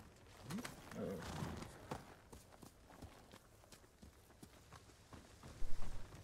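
A horse in the video game Ghost of Tsushima clip-clops along with quiet hoofbeats, a brief whinny near the start and a louder cluster of steps at the end, with game ambience and faint speech.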